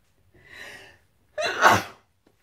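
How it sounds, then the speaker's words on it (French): A single sneeze: a soft breathy inhale followed by a sharp, loud burst, with no talking around it. "Je vais éternuer"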